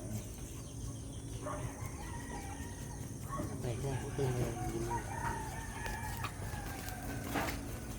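Native chickens cluck faintly and a rooster crows in the distance over a low outdoor background.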